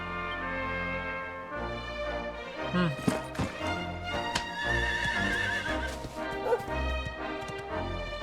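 A horse neighs within the Dragon Quest XI video game, a brief whinny rising over a dense bed of orchestral game music with layered melodic tones throughout.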